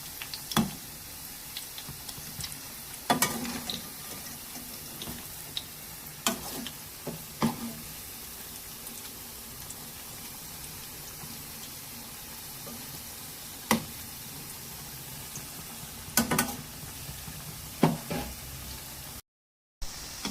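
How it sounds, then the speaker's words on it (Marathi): Colocasia leaf rolls (alu vadi) shallow-frying in hot oil give a steady, soft sizzle throughout, broken by occasional clinks and knocks of a utensil against the pan, with no talking. "1 ते 2 मिनिट आपण असंच तळायला ठेवूया."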